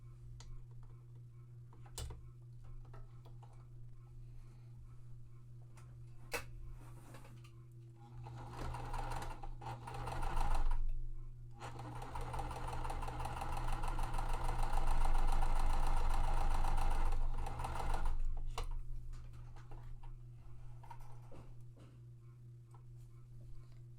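A sewing machine stitches quilt fabric seams at a quarter-inch allowance, starting with light ticking, then running in two sustained, steady bursts, close and fairly loud, with no talking.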